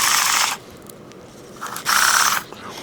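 Daiwa Tatula CT baitcasting reel in free spool, its line pulled out by hand with a grinding fault: two loud bursts of gritty, hissing mechanical grind, close up, separated by a quieter gap.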